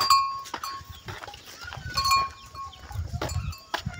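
A goat bleats near a farm plot of maize, chilli and beans, giving several short, close calls over a few seconds against quiet outdoor background noise.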